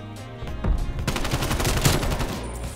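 Dense gunfire rattles in Call of Duty: Black Ops Cold War, several guns firing in rapid overlapping bursts at moderate loudness that builds to a sustained, continuous volley.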